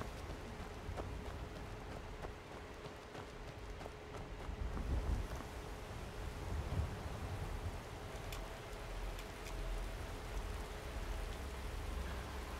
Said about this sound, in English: oh, because of the rain, probably. The rain's picking up.